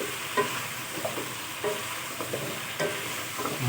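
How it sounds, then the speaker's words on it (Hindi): A spoon stirs chicken white korma with white pepper in a hot pan, giving soft scraping strokes over a continuous gentle sizzle, heard close with no talk. "इसे अच्छे तरीके से मिक्स कर दें"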